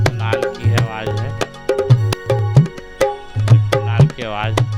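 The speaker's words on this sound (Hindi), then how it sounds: "अगर ये बोलोगे तो नाल की आवाज़ है" Naal drum hits in a Chhattisgarhi music loop, with resonant low thumps and sharp higher slaps in a brisk repeating rhythm alongside melodic tones, loud and continuous across the loop.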